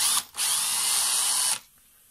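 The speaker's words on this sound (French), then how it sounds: "on va maintenant ouvrir la pompe à carburant, donc ouvrir les 6 vis qui se trouvent là" A power driver whirs loudly and steadily for about a second, after a brief first burst, while removing the six screws on the fuel pump cover of a Yamaha XV 500 carburettor, close up and then stopping.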